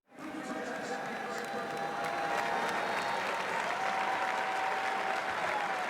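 A football stadium crowd at Iowa State vs Ohio, 2023, roars steadily and claps for a full six seconds as an injured player is helped off the field, a dense, continuous wall of applause and cheering with no quiet gaps.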